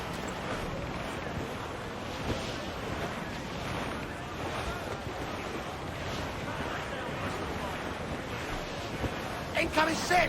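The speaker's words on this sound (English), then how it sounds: "Let's ride this squall!" Stormy sea during a squall in Assassin's Creed IV Black Flag, with a steady broadband rush of wind and breaking waves against a sailing ship, continuous and fairly loud, a few brief bumps near the end.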